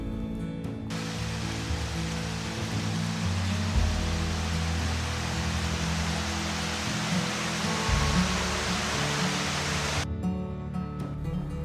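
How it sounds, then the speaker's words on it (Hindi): Mountain water rushing down in Uttarakhand's hills, a constant loud hiss of flowing stream with music layered over it for most of the stretch. "कहीं ऊंचे ऊंचे पहाड़, कहीं पहाड़ों से बहता पानी।"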